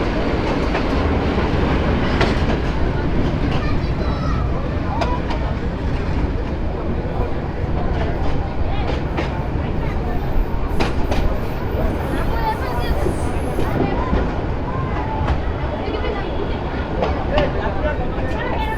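Sagorika Express train running on rails toward Chandpur Court railway station, a loud, continuous rumble and rattle of wheels and carriages throughout, with voices faintly in the mix.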